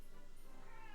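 A domestic cat meows softly indoors, a short, faint call lasting under a second with low background noise.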